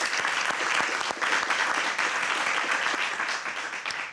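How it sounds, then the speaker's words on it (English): Studio audience applause on the It's Academic quiz show, a dense and loud wash of many hands clapping that holds steady throughout before fading slightly at the end. "Big round of applause for everybody."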